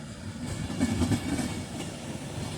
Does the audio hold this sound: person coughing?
no